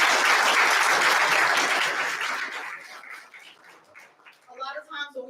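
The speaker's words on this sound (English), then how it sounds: "Can we start with a round of applause for all of you for being here today?" A crowd at a community college Black History Month program claps loudly in dense applause that fades out over a few seconds before a voice begins speaking.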